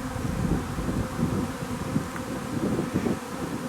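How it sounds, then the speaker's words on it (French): A big honeybee swarm hums steadily and densely at close range, a continuous layered drone with slight wind noise and no talking. "ça a l'air d'être un bel essaim"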